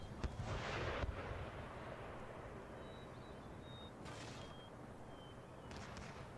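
Artillery in the Empire Total War strategy game firing explosive shots during a pirate stronghold battle, with several distant, rumbling booms spread across a low, steady battlefield din.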